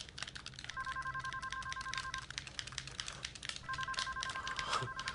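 A telephone rings in two bursts of electronic trilling tones, separated by a pause, over faint tapping and room noise.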